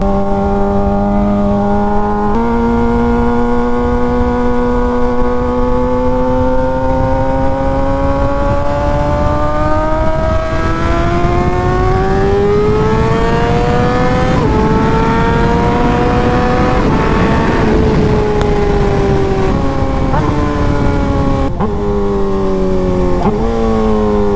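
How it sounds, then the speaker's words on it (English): A Suzuki GSX-R 600 sport motorcycle exhaust revs steadily and loudly for a long stretch, pitch climbing and dipping as the throttle is worked, with no talking. "this exhaust sounds perfect"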